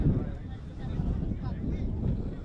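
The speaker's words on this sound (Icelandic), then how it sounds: "Mikið vindur hérna." Strong gusting wind buffeting an outdoor microphone at a football match in Iceland, a constant loud low rumble throughout, with faint talk underneath.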